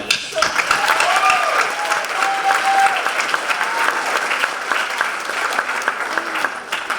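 Steady applause from a crowd at a high school commencement ceremony, clapping continuously throughout with a few faint voices underneath.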